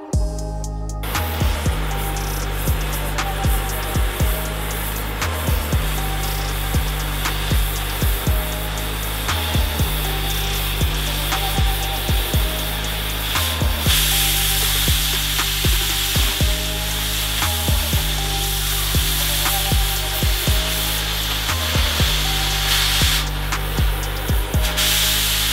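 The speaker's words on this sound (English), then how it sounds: "we can get to the cutting torch" A cutting torch hisses and roars steadily at close range as it cuts through a rusted, seized nut and bolt, with repeated sharp pops and crackles of molten metal throughout.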